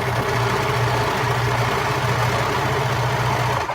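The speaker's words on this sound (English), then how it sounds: "the serger finishes the edges of the fabric, gives it a clean finish so that doesn't ravel" A serger, an overlock sewing machine trimming and finishing fabric edges, runs in a steady continuous motor hum with an even mechanical vibration, close and fairly loud, uninterrupted from start to finish with no talk.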